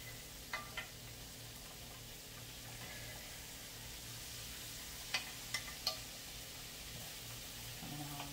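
Smothered sirloin chops sizzling in a pan while being stirred, a steady faint frying hiss broken by a few sharp utensil clicks against the pan.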